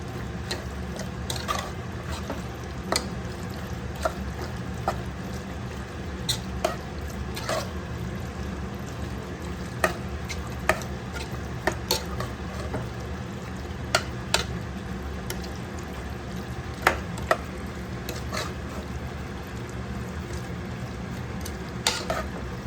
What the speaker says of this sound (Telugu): ఈ చిల్లీ పౌడర్, టర్మరిక్, సాల్ట్ అదంతా పీసెస్కి బాగా పట్టినంత వరకు బాగా కలుపుకుందామండి.